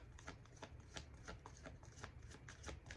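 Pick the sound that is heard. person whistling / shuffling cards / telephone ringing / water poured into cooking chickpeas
shuffling cards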